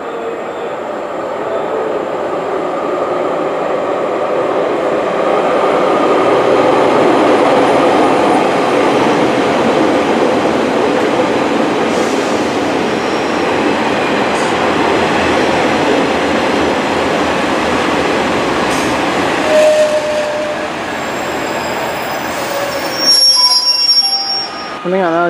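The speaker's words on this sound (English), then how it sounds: "Arriving into platform 3 now is the 1810 GWR service" GWR passenger service to Exmouth from Paignton arriving at a platform at Newton Abbot station, a steady loud rumble of the train rolling in with squealing wheels and brakes near the end, no talk over it.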